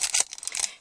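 Gift package being unwrapped, with quick bursts of crinkling and tearing paper, close and crisp, in a few short rustling strokes that trail off.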